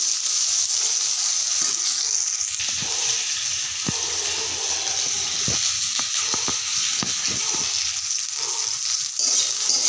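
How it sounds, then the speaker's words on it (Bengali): Potatoes and onion frying together in hot oil give a continuous, close crackling sizzle, broken by sharp clicks and scrapes of a spatula stirring in the pan. "পেঁয়াজ আর আলু একসাথে ভেজে নিচ্ছি"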